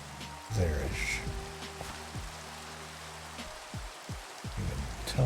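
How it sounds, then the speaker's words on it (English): Steady rain pours down in Minecraft at nightfall, a continuous hiss across the whole stretch, with low tones and soft thuds from the game underneath. "It's raining and dark."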